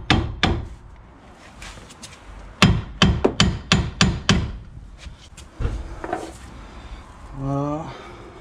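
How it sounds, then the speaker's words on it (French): Hammer blows ring out on a Renault Kangoo wheel hub, a rapid series of sharp metallic strikes, close and loud, followed by scattered knocks and a short spoken remark. "Des coups de marteau là."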